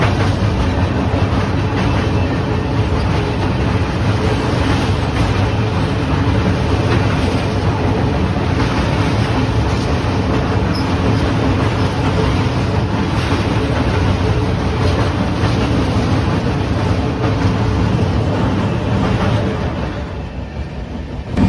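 Onboard rumble of the 12814 Steel Express running between Tatanagar and Ghatshila, a steady loud low roar with faint wheel clatter throughout, easing slightly near the end.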